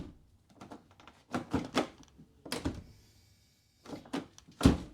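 The passenger door of a Mercedes S-Class with a damaged soft-close actuator is worked shut, giving several rattling thumps and clunks with a brief whine between them, close and fairly loud.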